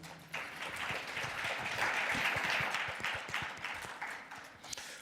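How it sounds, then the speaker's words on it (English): An audience at an event in Namibia gives a speaker a round of applause, moderately distant clapping that swells in the middle and then gradually thins out, with no talking. "A round of applause for Gwen Lister."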